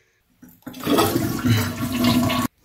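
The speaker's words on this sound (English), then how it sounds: "The best way to drain that water is to flush it a couple of times" A toilet flushes once to empty the tank, a sudden loud rush of water that holds steady for about two seconds before cutting off, close by with no voices.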